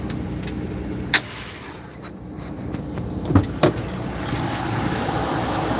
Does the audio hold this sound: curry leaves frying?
no